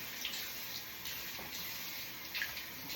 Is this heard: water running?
yes